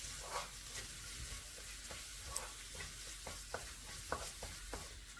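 Spinach stir-fry with coconut-garlic paste sizzles steadily in a pan, with scattered light clicks and scrapes as it is mixed, continuous and moderately quiet with no talking.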